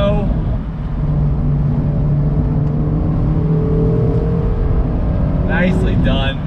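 A 2019 Mazda MX-5 Miata Club's engine drones under braking in fourth gear during a heel-toe downshift, a steady near hum with shifting tones, capped by a quick rising rev blip near the end; a driver talks over it.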